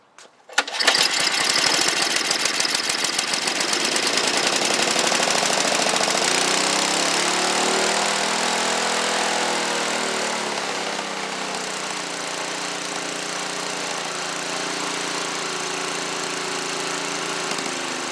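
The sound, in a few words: Tecumseh snowblower engine starting and running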